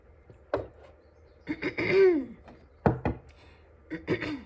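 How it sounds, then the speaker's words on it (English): A person clears their throat with a few rough, harsh bursts and a drawn-out guttural rasp, close and fairly loud, with short pauses between. "I'm gonna have to take a break so I can clear my throat."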